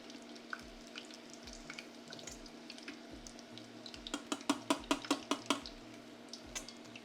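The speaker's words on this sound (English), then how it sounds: "So you can literally fry it twice. So this is the first fry." Korean fried chicken pieces deep frying in fresh oil on the first fry, a steady bubbling hiss with a quick run of sharp clinks and taps midway, no voices.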